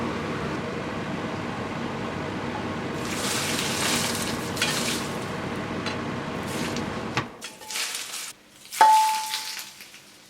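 Hot oil poured onto cooked beans for a Congolese madesu dish sizzles loudly and steadily at first, then cuts off into quieter clinks and scraping sounds of utensils against a pot.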